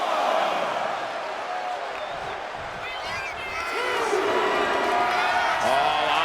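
A wrestling arena crowd roars and cheers steadily at a distance, swelling louder toward the end, with scattered whoops and claps under it.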